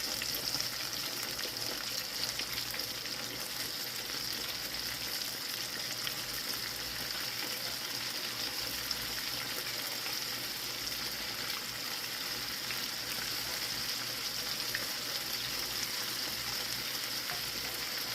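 Chicken pieces frying in a crowded pot of hot oil, a steady dense sizzle and crackle that holds evenly loud and close throughout, with no talking.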